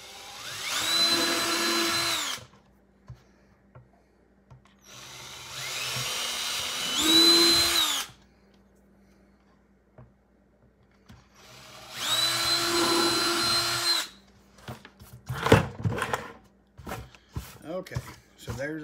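A cordless drill runs in three bursts of a few seconds each, drilling holes with a 1/8-inch bit, with quiet pauses between, followed by clicks and handling noises at the end.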